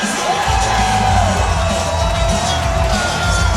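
A fight-night crowd roars with whoops and yells after a bout, a dense, steady wall of cheering that stays loud for the whole stretch.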